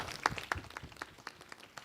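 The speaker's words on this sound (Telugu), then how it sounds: "గట్టిగా చప్పట్లు కొడదాం." A church congregation applauds at the 121st anniversary festival of St. Joseph's church in Vijayawada. The claps are faint and distant, with a steady rhythmic patter of several beats per second.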